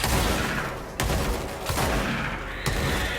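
Shotgun blasts from the combat of the video game Control, sharp booming reports at about one, 1.7 and 2.7 seconds over a dense, constant battle din, loud and close.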